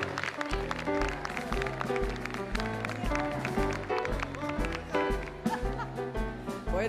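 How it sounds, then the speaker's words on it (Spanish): Concert crowd at a live Carnavalincoln show applauding the backing band, brisk uneven clapping and scattered shouts filling the hall at moderate distance, steady for several seconds. "un aplauso bien fuerte para ellos"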